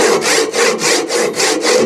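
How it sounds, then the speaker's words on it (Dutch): A hand saw cuts wood while renewing an old pergola, with about seven rhythmic, loud back-and-forth rasping strokes at an even pace, close by and with no talking. "en dan zoekt die zaag gewoon deze richting"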